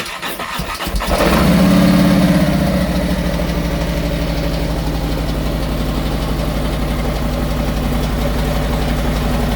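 A motorcycle starts with a short crank, then settles into a steady, close idle with a rough, slightly knocking rhythm after a 29,025-mile, 37-day ride, running on alone with no voices.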